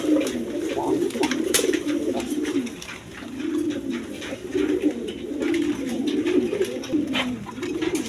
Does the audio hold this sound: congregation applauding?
no